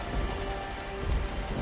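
Steady heavy rain pours down and patters on surfaces, a dense even hiss with a faint low rumble underneath, close and unbroken with no voices.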